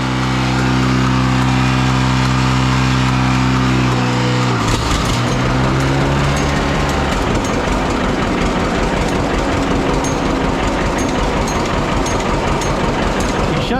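An antique diesel tractor engine runs loud and steady, first as a smooth droning hum, then shifting to a rougher, clattering chug with dense rhythmic knocking that carries on to the end.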